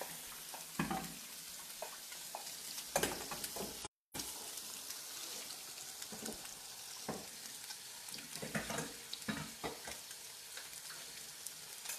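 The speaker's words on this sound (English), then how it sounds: "I'm just going to give this a quick wash real quick" Food rinsed under running tap water at a kitchen sink while cooking coconut curry, a soft continuous splashing with handling sounds, briefly cutting out once partway through, otherwise steady and fairly quiet.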